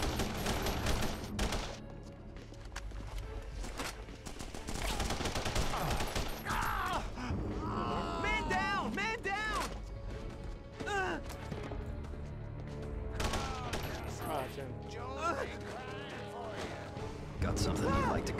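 Rapid gunfire bursts from The Punisher video game ring out in a dense, sustained barrage across the scene, mixed with shouting voices, crashes and a steady game soundtrack underneath.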